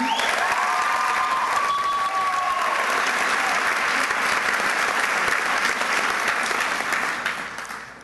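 Sustained audience applause for the graduating class of 2015 at a high school graduation ceremony, a dense steady wash of clapping filling the hall for about eight seconds before tapering off at the end.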